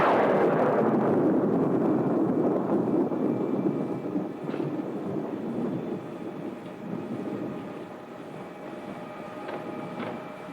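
Thunder on a stormy night rolls in as a long, loud, low rumble that fades slowly across several seconds, with no voices.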